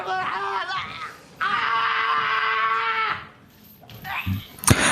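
A man bound with rope screams in pain during torture in a film: loud, drawn-out wailing cries with a strained, pitch-wavering voice, rising and falling before dropping off into a rough gasp.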